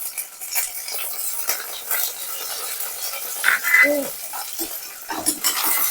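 A spoon stirs onions and curry leaves in a pan, scraping and clinking against the metal with a light sizzle underneath, close by and with no voices.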